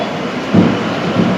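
Darjeeling toy train at Ghum station, a loud, close rumble of rolling wagons with a couple of heavier low thumps over a continuous rushing noise, without speech.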